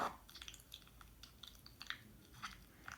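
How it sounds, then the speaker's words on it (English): Wet, squishy chewing noises, quiet and close, with irregular smacking bursts repeating over a few seconds. "Mac and cheese, which sounds like a gross chewing sound."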